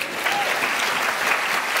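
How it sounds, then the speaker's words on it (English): A lecture audience breaks into a short, loud burst of applause, dense clapping at an even level from start to finish. "Big round of applause here"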